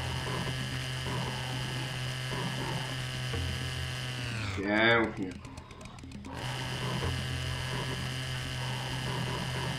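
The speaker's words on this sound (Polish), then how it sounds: "Dobra, piła łańcuchowa." A chainsaw in the Serious Sam video game hums steadily, with a short, louder revving burst midway. Someone talks over it throughout.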